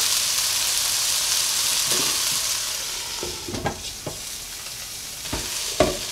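Mixed vegetables for veg kurma cooking in a covered pan over a medium flame, a soft continuous sizzle and simmer hiss with a few scattered clinks and stirring knocks toward the end.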